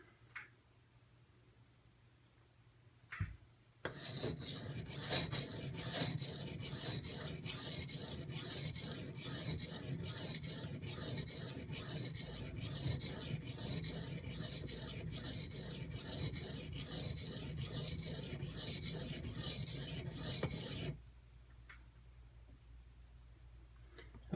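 A knife worked back and forth on a Gritomatic silicon carbide benchstone in a fast, continuous run of gritty rasping strokes for about seventeen seconds, close up, with quiet before and after.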